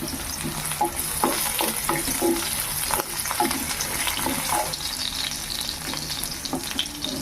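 Indian coral tree leaves and ginger sautéing in a pan: a loud, dense sizzle with constant scraping stirs and small clinks, close up and continuous.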